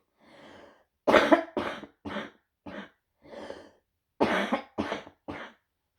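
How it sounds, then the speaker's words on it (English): A single person coughs repeatedly in separate bursts, one soft cough followed by a cluster of loud, close harsh coughs and a later trio, with brief silences between them and no talking. "See, proper way to cough."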